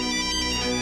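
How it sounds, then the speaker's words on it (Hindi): A phone ringtone plays loud and close, a bright electronic tone held steady with a fast pulsing rhythm, alone without any talk. "ये नाहर सिंह का फोन है"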